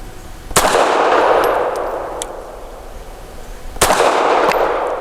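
An FN Browning BDA 380 pistol fires PMC bronze rounds in double action: two sharp, loud shots about three seconds apart, each ending in a brief ringing decay.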